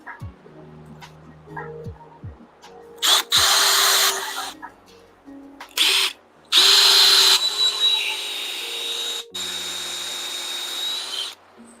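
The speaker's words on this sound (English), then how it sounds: "I know where to drill my hole for the screw I'm putting in here." A power drill whirs in two loud bursts of a couple of seconds each, then runs more steadily, drilling a screw hole during an under-seat subwoofer install in a Ford F-150 truck, with quiet tool handling and clicks in between.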